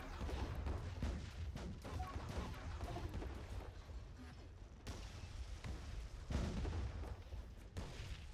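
Weapons fire and explosions as ships are destroyed in the space strategy game Distant Worlds 2, a steady barrage of booms and crashes with a few sharper blasts, fairly loud and continuous.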